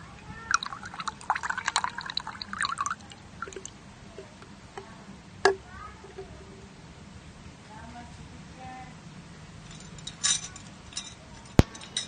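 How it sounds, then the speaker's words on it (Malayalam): About a quarter glass of water is poured into homemade face toner powder, giving brief splashy bursts near the start and a few later drips and clinks in a quiet room. "ഒരു 1/4 ഗ്ലാസ് വെള്ളം ചേർത്ത് കൊടുക്കുക"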